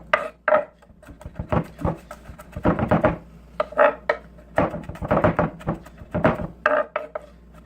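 A knife mincing garlic cloves on a wooden board, quick irregular bursts of tapping chops close up, loud and choppy with brief pauses between runs.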